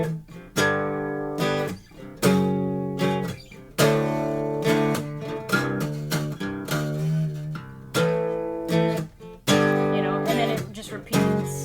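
An electric guitar plays the bridge line of a song, a repeating phrase of sustained, ringing notes with short gaps between groups, clear and close with no voice over it.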